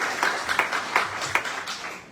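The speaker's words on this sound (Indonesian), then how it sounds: "Kasih tepuk tangan buat Daniel." A church congregation at a Sunday service claps in a short, moderately loud round of applause, with individual claps standing out near the microphone.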